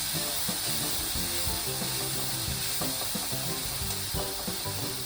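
Green chilies sizzle and fry steadily in hot oil for a snack filling, a continuous close crackling hiss with faint stirring scrapes and no talk.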